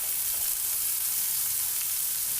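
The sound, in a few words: chopped onions added to frying pointed gourd, sizzling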